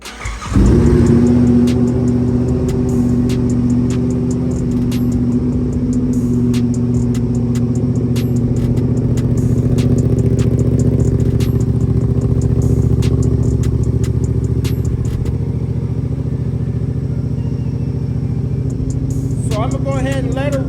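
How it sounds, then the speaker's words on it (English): Superbike engine cranking and catching at the start, then settling into a loud, steady idle with a mechanical clatter, close up and continuous, with a few faint ticks on top. "So I'm gonna go ahead and let her run until the engine's quite warm"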